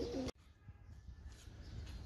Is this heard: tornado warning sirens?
no